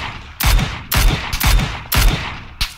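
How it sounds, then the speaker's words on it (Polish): Several distant gunshot bursts crack out in a video game firefight, arriving in four or five separate volleys with short quiet gaps between them and no voices over them. "O, mnie ktoś strzela z daleka."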